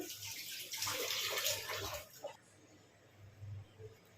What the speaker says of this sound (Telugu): ఇంకొద్దిగా వాటర్ వేసుకోండి